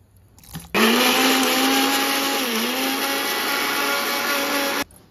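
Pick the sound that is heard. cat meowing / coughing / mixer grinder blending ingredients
mixer grinder blending ingredients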